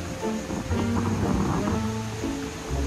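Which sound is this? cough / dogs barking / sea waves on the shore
sea waves on the shore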